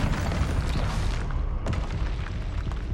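Heavy booming spell blasts from Confringo and Incendio in Hogwarts Legacy, a continuous roaring burst with a sharp second impact midway, loud and alone with no talk.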